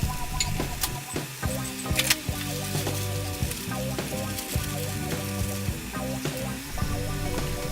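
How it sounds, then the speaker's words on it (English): Pork frying in a pan for bao filling, sizzling loudly and steadily up close, with frequent scraping and clattering stirs of a spatula throughout and no talking. "We cook the pork first before adding the sauce"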